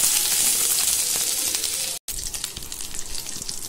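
Spices tempering in hot oil for rava pongal, crackling and sizzling loudly and close with scattered sharp pops, cut by a brief dropout, then sizzling continues a little quieter.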